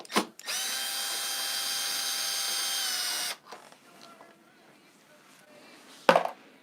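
Power drill or driver whirring steadily for about three seconds as it backs out a tight T30 screw on a BMW R1250GSA motorcycle, close and loud, followed by quiet handling noises and a short sharp clack.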